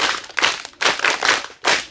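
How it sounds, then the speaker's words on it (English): Audience applause given as thanks at a school gathering with pupils, arriving in three or four loud bursts of clapping separated by short gaps. "Can we thank by clapping?"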